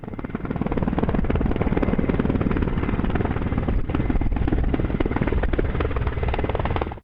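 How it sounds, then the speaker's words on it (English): A Mi-17 helicopter flies over Namche Bazaar in Nepal, its engine and rotor making a loud, steady broadband roar that holds at constant strength for the whole stretch with no voices. "This helicopter Mi-17 is flying through Namche Bazaar in Nepal."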